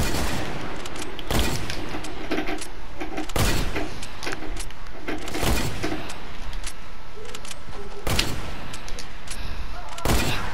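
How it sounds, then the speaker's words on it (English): Sniper fire in the Fortnite video game, heard as about six sharp, loud shots spaced irregularly over steady game background noise. "I only got sniped at."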